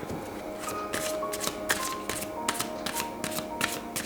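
A deck of oracle cards is shuffled by hand up close, giving a continuous run of soft papery riffles and slaps in an uneven rhythm, with no talk over it.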